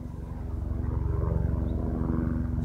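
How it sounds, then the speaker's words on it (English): Helicopter crossing low over a residential street at night, a steady near rotor drone with rhythmic blade thumping that holds loud throughout. "comes a helicopter crossing over my street right here"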